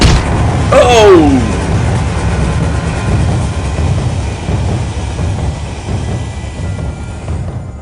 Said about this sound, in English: the sound of the train going past with the dirt sounds like a heartbeat.